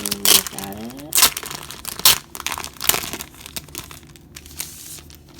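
Plastic packaging crinkles and tears as an album sticker sheet is pulled free, a series of close, sharp crackling bursts with brief pauses between them and a voice briefly heard.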